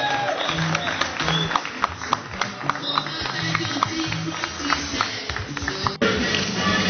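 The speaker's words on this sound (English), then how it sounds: "massive round of applause, ladies and gentlemen" Audience applause and cheering at a musician's induction into the Hard Rock Cafe Hall of Fame, a dense clatter of clapping hands mixed with crowd voices and shouts, fairly steady, with music or speech faintly underneath.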